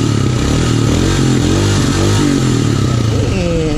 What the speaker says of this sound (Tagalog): Ayan, Himalayan 400cc ng Royal Enfield.